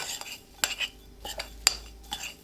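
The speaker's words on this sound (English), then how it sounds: "Now I'm just gonna mix it all up." A spoon clinks and scrapes against a bowl while raw berry cobbler seasonings are mixed, giving a few sharp metallic taps amid soft intermittent stirring, close and quiet.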